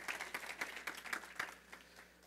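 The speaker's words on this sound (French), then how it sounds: "Est-ce qu'on peut applaudir l'histoire de Sabera ce matin?" Scattered audience applause at a French-language church service, a few dozen sparse claps rising and thinning out over a couple of seconds, fairly quiet and fading toward the end.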